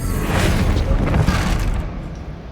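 A Bombarda spell explosion in Hogwarts Legacy, a loud, deep booming blast with a rumbling tail that fades out over a couple of seconds.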